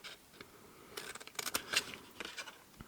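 Several quick, crisp snips of very large scissors cutting while making gift boxes, clustered in the middle, faint and close, with short pauses between them and no talking.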